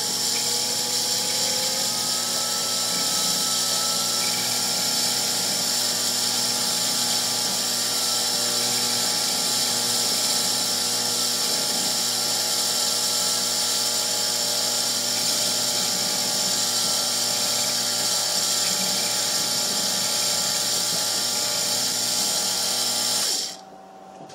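A rotary cutting machine running at high RPM while cutting wax for a 20mm triangle pendant gives a steady, loud, high-pitched whine that holds for over twenty seconds and then cuts off abruptly at the end.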